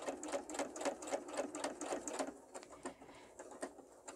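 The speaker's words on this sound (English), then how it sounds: "there's some special foots you can get for your sewing machine that will help with that" A sewing machine stitches around a fabric dog-shaped potholder, running in a quick, even rhythmic patter up close, then slowing into a few sparser, separate stitches.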